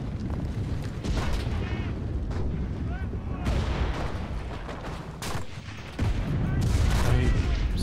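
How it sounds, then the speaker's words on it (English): Repeated booming explosions and rapid gunfire from the video game Enlisted, loud and chaotic, overlapping in quick bursts throughout. "I'm so sick of this explosion effect."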